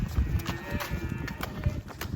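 A loose cow runs past, its hooves clopping in a rapid uneven series of thuds close by, while someone shouts nearby and outdoor noise fills the background.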